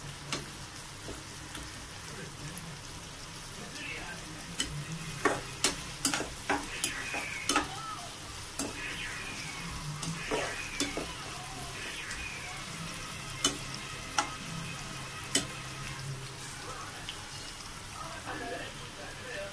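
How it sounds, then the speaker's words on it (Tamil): Onions sauté until golden in a pan for prawn thokku, giving a steady low sizzle broken by sharp spatula clicks and scrapes, with a faint voice talking in the background. "வெங்காயத்தை கூட இப்போ நல்லா வதங்கிக்கலாம். நல்லா பொன்னிறமாக ஆகிற வரைக்கும்"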